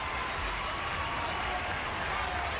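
A stadium crowd in a baseball video game roars steadily after a home run, a dense and continuous wash of cheering with no break across the whole moment.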